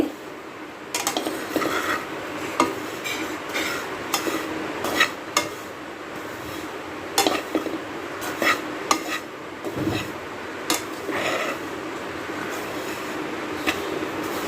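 Ground flattened rice roasting in ghee is stirred with a utensil in a pan, giving repeated scraping and clinking taps at an uneven rhythm, close and fairly loud, with no voices.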